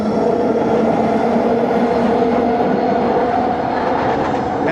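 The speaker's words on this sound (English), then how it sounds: "Call them the SkyTrain. It's basically a subway, but it's up there instead of down here." Vancouver SkyTrain, a driverless computerized elevated metro running two to six cars, passes on raised tracks with a steady loud rumble and rail roar held at constant strength throughout, no voices.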